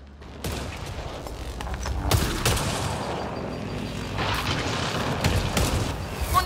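Gunfire from a firefight in the video game Mass Effect: Andromeda, with a steady crackle of rapid shots and booms filling the scene at moderate loudness, picking up toward the end.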